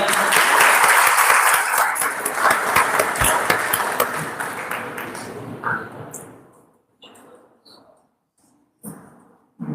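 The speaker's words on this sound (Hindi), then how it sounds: "तालियां।" Audience at a Constitution Day event applauds loudly and steadily, then the clapping thins out and fades into a few scattered claps and quiet.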